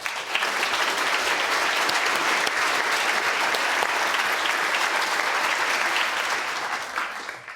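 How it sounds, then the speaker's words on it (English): Sustained audience applause at a Royal Institution Christmas lecture on food, a dense, steady wash of many hands clapping that holds loud throughout and tapers slightly at the end, with no talk over it. "Xand, big round of applause"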